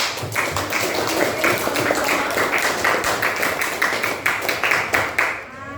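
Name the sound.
audience clapping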